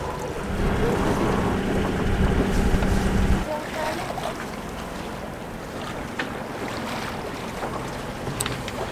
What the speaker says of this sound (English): The engine's just running in neutral because it's really close